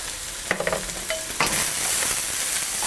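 Garlic and ginger being stir-fried in a hot pan for pork chow mein: a few clinks and scrapes of stirring, then a loud, steady sizzle that fills the rest of the clip.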